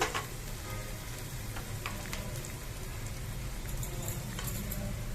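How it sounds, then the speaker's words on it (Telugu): Onion pieces and green chillies fry steadily in a pan, a continuous close sizzle with scattered crackles and pops running evenly throughout, no talking. "వేపుదాం, బాగా వేగాలండి ఇది."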